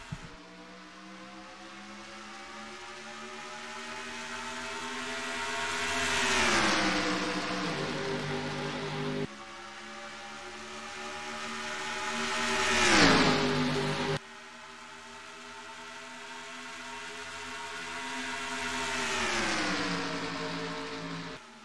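Race cars in a stock-car racing video game at Charlotte roar through three rising engine sweeps, each building to a loud peak and then falling away as the pack accelerates past, the cuts between them sharp.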